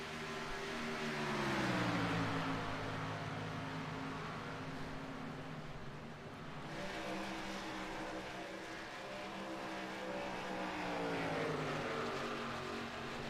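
Race cars roaring around the Brickyard oval in a racing video game, engines droning and shifting pitch as they pass, a steady fairly loud pack sound without talk.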